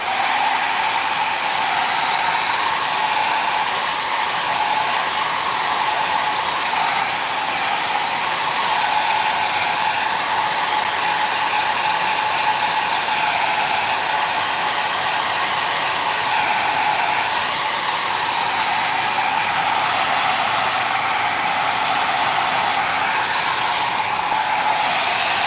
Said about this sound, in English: Taking the heat tool